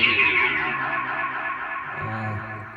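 A dense, ringing wash of self-oscillating feedback from a vintage Kastam SS-300 8-track tape echo swells with bright upper tones, then slowly decays and smears as lower pitches emerge near the end.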